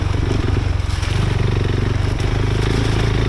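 KTM 390 Adventure motorcycle riding a dirt trail, its single-cylinder engine droning loud and close with a steady pulsing rhythm, plus some clatter and scraping from the ride.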